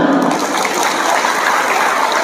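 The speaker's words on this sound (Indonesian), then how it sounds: "Tepuk tangan" A crowd claps steadily through a religious gathering, dense broadband applause with no gaps, loud and continuous for a couple of seconds, no voices rising above it.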